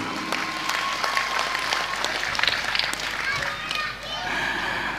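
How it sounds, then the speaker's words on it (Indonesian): Audience applause for Akim at an Indonesian religious gathering, a lively burst of clapping mixed with children's voices and crowd chatter. "Tepuk tangan untuk Akim."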